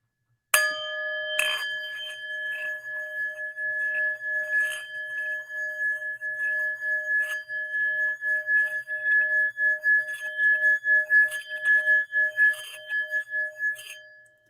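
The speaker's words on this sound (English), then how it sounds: "the more that you circle the singing bowl, the deeper, the wider, the richer, the louder the sound gets" A singing bowl is struck once, then rubbed around its rim, giving a sustained pure metallic ring that swells and pulses in a steady wavering rhythm, close and clear with no voices.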